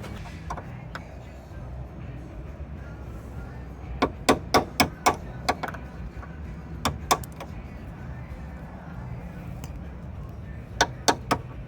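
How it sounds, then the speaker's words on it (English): Sharp metallic taps on a pin driving out the door hinge bushings of a Chevy OBS truck, several quick bursts of ringing strikes with pauses between, close over a low background hum. "you can probably use the pin at an angle and tap those out"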